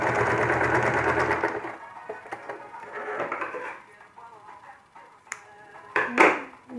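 A sewing machine stitches patchwork pieces for a Kazakh kurak quilt, running in a close, steady whir for a couple of seconds before stopping, followed by quieter handling clicks and taps of fabric and tools.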